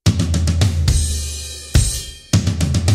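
A song's intro drum pattern played without hi-hat: bursts of close, loud tom and kick hits separated by ringing sustained crashes.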